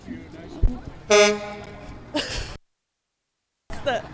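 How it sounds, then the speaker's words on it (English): The Bernie Sanders campaign bus arrives at an outdoor political event with a short, loud, tonal horn blast. It sounds among bursts of nearby talk and other noises, followed by a brief silent gap. "Interrupted by the Sanders bus arriving."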